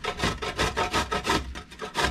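Purple yam (ube) is rubbed against a hand grater in a steady rhythm, about eight rasping back-and-forth strokes, close and moderately loud, with no voices.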